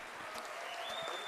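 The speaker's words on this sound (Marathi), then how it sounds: "जरा जोरदार टाळ्या" Brief burst of audience applause at a Saturday Club event, a steady wash of many hands clapping at moderate distance for just over a second.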